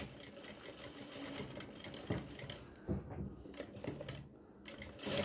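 A sewing machine runs steadily, stitching a front neck design on a garment, its fast rhythmic mechanical whir continuous and close throughout with a few brief louder knocks, no speech over it.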